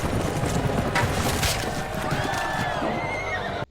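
Horses whinny loudly amid galloping hooves during a jousting tournament in a medieval fantasy drama, the neighs rising clearly over a dense, busy crowd-and-action bed that runs throughout.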